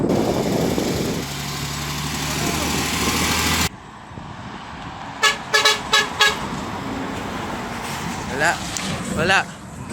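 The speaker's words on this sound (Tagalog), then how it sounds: "yung busina dapat yung malupit Albert galingan mo" Several short, sharp vehicle horn honks ring out in quick bursts after a steady rumble of traffic noise, with voices talking in the background.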